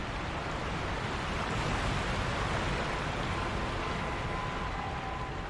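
A steady, loud waterfall roar in Sekiro: Shadows Die Twice, an unbroken wash of rushing water filling the whole scene with no talking.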